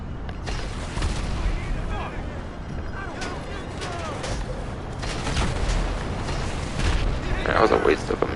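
A missile launched and exploding in GTA Online, heavy rumbling booms and blasts mixed with game gunfire, with someone speaking over the chaotic action.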